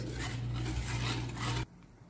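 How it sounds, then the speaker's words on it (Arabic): A spoon stirs a chocolate mocha dessert mixture made with dark chocolate in a pot, giving a steady close rasping scrape for about a second and a half before stopping abruptly. "حرك الخليط"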